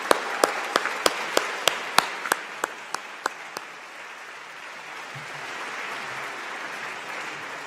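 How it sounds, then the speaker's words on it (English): At an awards ceremony, loud, sharp hand claps land in a brisk, even rhythm, slowing and thinning before fading into a soft hall murmur. "we would like to give you a round of applause"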